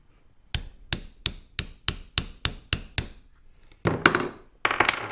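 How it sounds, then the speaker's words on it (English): Hammer blows driving a punch against a pin in a Ruger LCP .380 pistol frame: about eight sharp, evenly spaced metallic strikes, followed by a couple of louder, messier knocks and clatter. "just beat the hell out of it with a hammer until it comes out"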